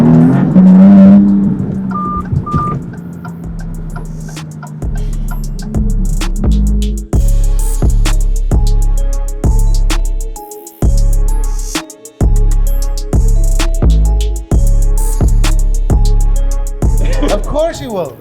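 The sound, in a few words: Maserati MC20 car driving hard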